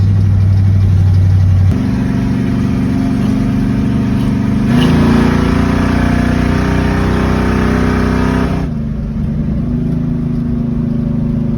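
A 1970 Chevrolet Nova's engine pulls hard while driving, a loud close roar rising through gear changes, with a clear shift near the two-second mark and another surge that drops off toward the end.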